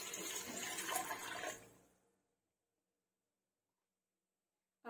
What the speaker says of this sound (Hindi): चना डूबने भर इसमें पानी डाल लेंगे।